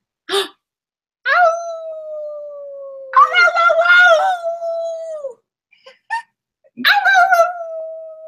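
A dog gives several long, wavering howls separated by short silences, with a few yips between them, loud and close.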